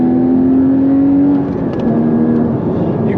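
Porsche 981 Cayman GT4 engine revs up under acceleration, holding a loud, steady drone close by before dipping on a short shift and pulling again, with no talk.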